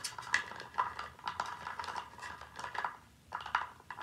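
Small plastic toy dinosaurs being shaken and stirred around inside a mystery box, giving quick clattering knocks and rattles in short bursts with brief pauses, close and fairly quiet.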